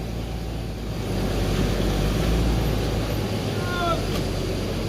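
A bus engine runs smoothly with a steady low rumble, heard from inside over constant road and wind noise.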